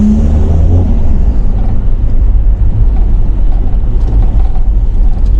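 A manual car with a glazed clutch drives in fourth gear, its engine a loud, steady low drone and road rumble that never lets up, with no voices.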